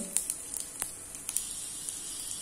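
Chana dal, urad dal, cumin and hing sauté in hot oil with a faint, steady sizzle broken by small, irregular crackling pops, close by and quiet.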